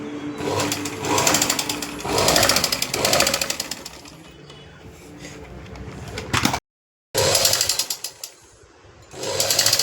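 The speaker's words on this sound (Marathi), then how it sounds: "आता पिऊ तरायचं ना त्याच्यामुळे मी थोडं थोडं शिवते." A sewing machine runs in short, loud bursts of rapid rhythmic stitching as a blouse is sewn, with quieter stretches between runs and a brief complete dropout midway; no one speaks.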